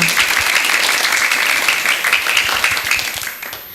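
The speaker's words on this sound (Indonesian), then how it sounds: "Tepuk tangan yang meriah buat teman-teman kita." Lively applause from an audience after children's poetry readings at an elementary school storytelling event, a dense steady wash of clapping that tapers off near the end.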